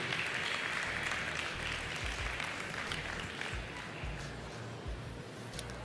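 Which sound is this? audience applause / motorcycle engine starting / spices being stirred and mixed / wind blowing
audience applause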